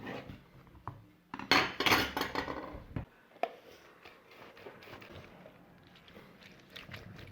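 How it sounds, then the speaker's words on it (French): Oranges cut and squeezed by hand for juice, with close knife clicks on a board, a louder burst of squishing and dripping in the middle, then quieter intermittent handling sounds. "Donc on va couper et presser les oranges pour avoir le jus."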